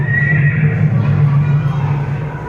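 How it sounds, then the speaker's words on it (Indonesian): A horse neighs loudly and close, a sustained whinny lasting a couple of seconds with no talk over it, evoking the fiery horses of the Elijah story. "Tiba-tiba datanglah kereta berapi dan kuda berapi muncul memisahkan Elia dan Elisa."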